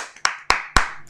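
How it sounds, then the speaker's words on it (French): A church congregation at a Friday night worship vigil claps hands in unison, three sharp, evenly spaced loud claps with a quieter one before them. "Et applaudissez pour que l'enfer Tremble de peur"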